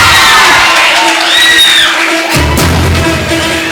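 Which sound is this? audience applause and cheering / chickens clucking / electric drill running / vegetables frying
audience applause and cheering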